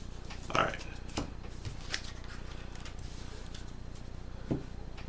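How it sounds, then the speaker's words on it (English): A deck of Onirim game cards is shuffled close by, with soft riffling and flicking sounds and a few sharper card snaps over a faint background hiss. "I don't have an issue shuffling the giant deck, but that small one is a bit trickier"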